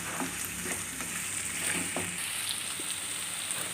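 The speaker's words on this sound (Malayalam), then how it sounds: "നന്നായിട്ട് ഉള്ളി വഴറ്റിയെടുക്കാം" Onions sautéing with salt in a pan for a sprouted cashew curry, a steady close sizzle with occasional soft stirring sounds and no voices.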